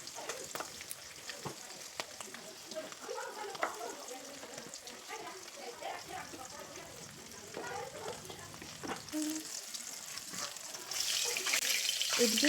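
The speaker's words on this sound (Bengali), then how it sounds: "মাছগুলো খুব ভালোভাবে কড়া করে ভাজা হয়ে গেছে।" Amlia fish frying in oil in a kitchen, a steady crackling sizzle that runs the whole time, with scattered pops and faint clinks and a brighter, louder hiss near the end.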